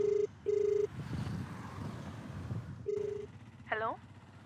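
A phone rings in a Malayalam short film, two electronic ring bursts in quick succession and a third after a pause, with wind noise, a brief voice and a rising tone near the end.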